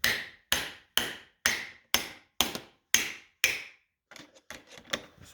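Wrench knocked against a bark buster bolt head on a dirt bike handlebar, eight sharp metallic strikes in an even rhythm, then a run of lighter, irregular taps and clinks.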